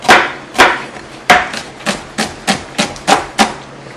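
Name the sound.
knife cutting straight down through a vegetable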